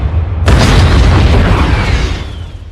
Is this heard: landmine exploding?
yes